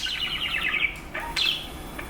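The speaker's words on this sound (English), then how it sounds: "If you can't stand to hear birds chirping, singing, or screaming all day, singing and chirping is just in their nature." Pet birds chirping in quick, high twittering bursts, a fast run of notes and then a few more chirps after a pause, fairly faint over a low background hiss.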